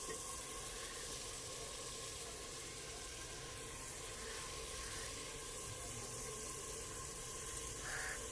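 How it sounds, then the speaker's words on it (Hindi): Chicken frying in ghee in a pan, a steady faint sizzle that holds evenly throughout with only small shifts, no talking. "अब थोड़ा सा ना चिकन इसमें हम भूनेंगे घी में"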